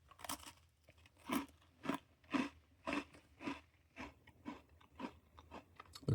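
Repeated crunchy bites into a strawberry-flavoured Oreo cookie, about ten sharp crunches in a steady rhythm with chewing in between, close up and fairly quiet, with no talking.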